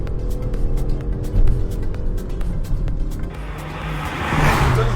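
A Hyundai i30 N front-wheel-drive hot hatch with a manual gearbox drives with a steady, close engine rumble that surges and eases, and wind and road noise build toward the end, with no talking.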